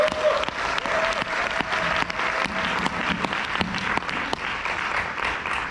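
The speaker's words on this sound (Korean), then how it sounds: "박수 한번 시원하게 칠까요?" Seminar audience at a resort product lecture breaks into steady, full applause, many hands clapping evenly for several seconds with a few sharper individual claps standing out.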